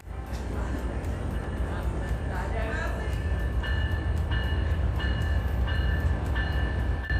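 The Amtrak Silver Meteor passenger train, led by ALC-42 and P42DC locomotives, rumbles into a station close and loud with heavy rolling noise, joined by clanking and squealing of wheels and brakes.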